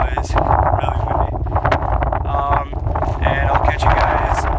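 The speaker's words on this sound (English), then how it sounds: "Sorry about the wind noise, really windy." Heavy gusting wind buffets the microphone in a loud, continuous rumble while a person talks over it.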